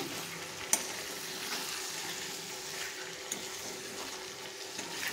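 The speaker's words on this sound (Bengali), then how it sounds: "আর আলুতে মশলাতে 5-7 মিনিট মতো নাড়িয়ে নেব।" Boiled potatoes frying with spices in a pan, giving a soft, steady sizzling hiss with an occasional light utensil tap, close and fairly quiet.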